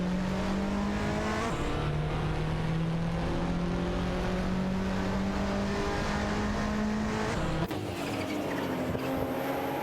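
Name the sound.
racing cars, including a Toyota Celica GT-Four, driving at speed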